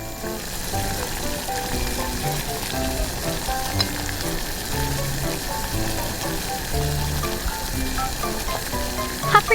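Tiny ingredients for miniature Thai grilled fish, with bean sprouts and green pepper, fry and sizzle in a mini kitchen pan, a steady close crackle with faint stirring throughout and a brief louder clatter at the end.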